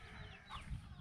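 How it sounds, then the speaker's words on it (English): Free-range chickens and a rooster on a street on the Caramoan Peninsula give faint, brief clucking, heard distantly through a low background rumble. "Oh, there's the rooster."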